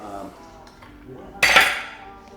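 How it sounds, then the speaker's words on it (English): A spoon scrapes and clinks against a bowl while stirring pancake batter, with a brief louder clatter midway, close and under faint background noise. "Just gonna stir this a little bit more"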